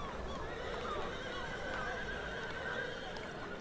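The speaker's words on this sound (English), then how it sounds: "Rutger and Ella rode their horse into the courtyard" Horse hooves clip-clop steadily as a horse is ridden into a courtyard, mixed with neighs and a continuous murmur of background ambience.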